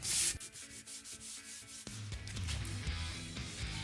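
Fine sandpaper rubs over lacquered wood during wall paneling finishing, giving steady close scratchy strokes with a brighter, busier texture in the second half.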